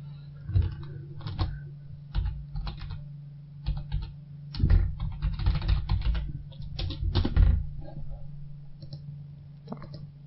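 Typing a report title on a computer keyboard in 1C Enterprise 8.3 software: clusters of close, sharp key clicks in uneven bursts with pauses, over a low steady hum.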